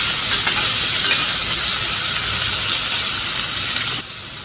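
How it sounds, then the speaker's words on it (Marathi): Tomatoes for misal sauté in a hot pan with ginger and garlic, giving a loud, continuous hissing sizzle that holds steady and eases off at the very end. "टोमॅटो चांगला शिजेपर्यंत आपण याला परतून घेऊया."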